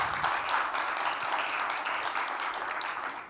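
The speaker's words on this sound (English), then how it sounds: "Can we have a round of applause for James, please?" Quiet applause from a conference audience at a cybersecurity event session, a continuous, even patter of many hands heard at some distance, fairly faint and steady for the whole stretch.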